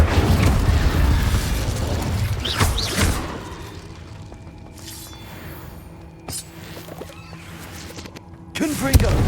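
Fire spell effects from the Hogwarts Legacy video game, with bursts of booming, crackling blasts amid busy combat noise, a loud swell early on and another sharp burst near the end.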